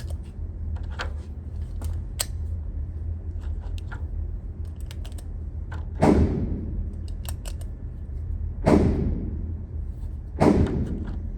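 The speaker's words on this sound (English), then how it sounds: "I'm going to shoot the bottom 7." A pistol is fired at a target in three loud, sharp, widely spaced shots, with faint clicks and handling noise between them.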